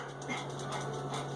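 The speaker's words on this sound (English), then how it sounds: "Sorry about the little chihuahua barking." A small chihuahua barks and whimpers in short, close yelps over a steady low indoor hum.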